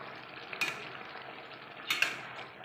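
Prawn and banana flower curry stirred in a pan, two soft scraping strokes of a spoon against the metal over a quiet low background, faint and close.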